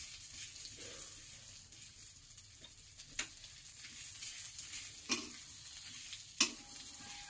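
Vegetables stir-fried over low heat in a pan give a soft, quiet sizzle, with occasional sharp scrapes and taps of a spatula against the pan.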